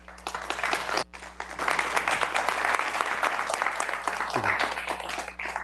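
An audience applauds, dense clapping that briefly drops after a moment, then swells again and carries on steadily to the end.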